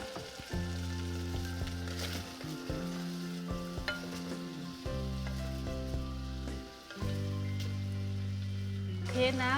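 Green curry paste frying in oil for a Thai green curry chicken soup, a steady crackling sizzle with stirring noises and a few clinks of the utensil, alone and without talking.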